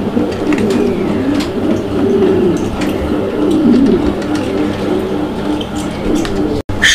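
Mundian pigeons in a loft cooing steadily, close and fairly loud, with overlapping low rolling coos and a faint background hum.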